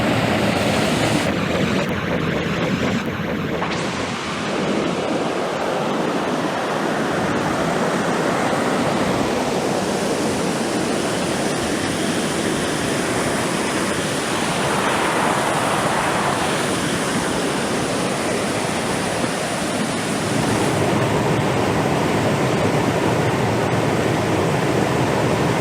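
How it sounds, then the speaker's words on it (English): A mountain stream with waterfalls rushes loudly and steadily on the Quehanna Trail, a dense, unbroken roar of water filling the whole scene. "That water's rushing pretty good around these parts. Pretty nice waterfalls"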